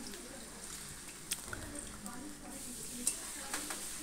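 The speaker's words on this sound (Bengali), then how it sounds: "আলুগুলো একটু লাল লাল করে ভেজে নিতে হবে।" Chopped potatoes frying in a pan give a soft steady sizzle with occasional light clicks of stirring, quiet and close.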